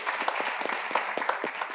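An audience claps in steady applause during a quiz show segment on a women's programme, a dense continuous patter of hands with no voices, filling the moment at moderate loudness.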